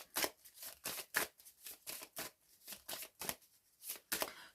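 Tarot cards are handled and shuffled close up in a steady run of soft, papery swishes and slides, about ten brisk strokes in a row. There is no speech.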